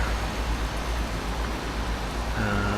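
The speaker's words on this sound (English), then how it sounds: "So yes, definitely is a rainy day here." Rain in the Euro Truck Simulator 2 driving game, a soft steady hiss of falling rain over a low truck engine drone, constant and fairly quiet.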